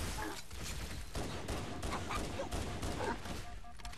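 Covenant Elite gunfire in Halo: Combat Evolved Anniversary, a dense rapid volley of energy shots over about four seconds, steady and fairly loud amid game noise.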